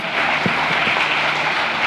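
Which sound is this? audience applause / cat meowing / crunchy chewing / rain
audience applause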